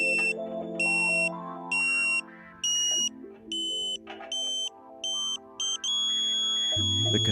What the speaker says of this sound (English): The continuous tone at this point does not indicate maximum signal level.